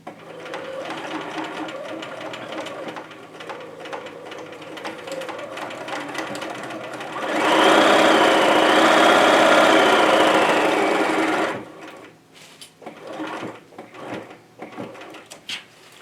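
A sewing machine stitching slowly across the top of a zipper on a small pouch runs in a loud, steady whir for a few seconds, set between quieter handling noises and faint rustling.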